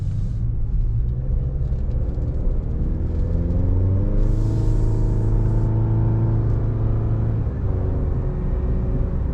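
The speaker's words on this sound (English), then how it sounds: "Just effortless acceleration, and it even has a little bit of that turbo spool" A turbocharged 2.7-liter four-cylinder car accelerates with a steady, loud engine drone, its pitch climbing smoothly as it pulls, with a faint high whistle of turbo spool riding above the rumble; no talking.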